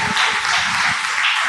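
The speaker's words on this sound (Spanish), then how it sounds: "Denle un aplauso al Señor." A church congregation breaks into brief applause during a Pentecost sermon, a short burst of bright, steady clapping at close range.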